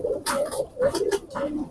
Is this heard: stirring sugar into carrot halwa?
no